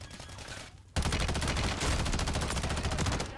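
Rapid automatic gunfire in the shooter Warzone, a dense near burst of fast repeated shots after a quieter lead-in, continuous and loud with no talk.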